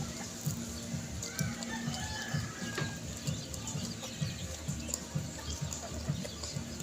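Chicks and hens cluck in a steady, repeating pattern close by, with a low continuous background hum and a few faint higher chirps scattered throughout.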